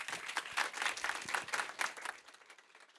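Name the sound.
audience applause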